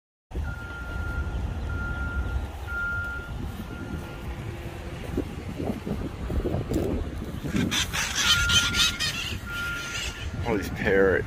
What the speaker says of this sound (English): All these parrots.